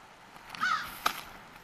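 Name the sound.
crows cawing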